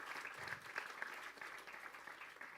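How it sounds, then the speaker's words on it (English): An audience applauds at a corporate grand finale event, Mondelēz Maestros 2024: dense, sustained clapping that holds steady and fairly loud for the whole stretch, with no voices over it. "A big round of applause, a thunderous round of applause for all these guys."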